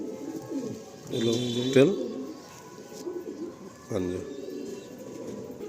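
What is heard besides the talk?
pigeons cooing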